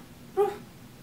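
A single short, gruff woof from a human voice imitating a dog's bark, heard alone against quiet room tone.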